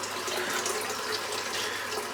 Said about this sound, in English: I'm just going to rinse out the Overlander, just to give it a bit of a clean up before the face shave.